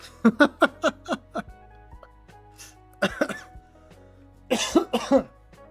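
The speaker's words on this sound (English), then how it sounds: "Oh, cough." A quick burst of about six sharp coughs, then scattered softer sounds and two more clusters of coughing, close and fairly loud.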